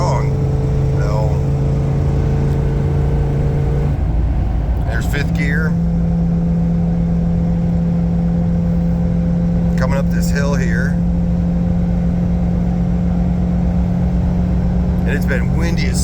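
Pickup truck with a 460 EFI V8 and a stage 1 cam kit pulling uphill in fifth gear into a strong wind, a steady mid-pitched engine drone running throughout beneath someone talking over it.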